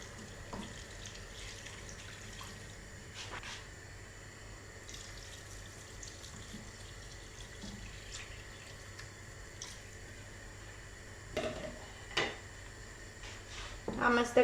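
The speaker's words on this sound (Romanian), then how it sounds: "Apoi turnăm apa." A steady trickle of water runs into a pot of vegetables for mushroom cream soup, with a few clinks and knocks of kitchen utensils near the end.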